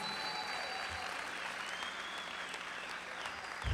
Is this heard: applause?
yes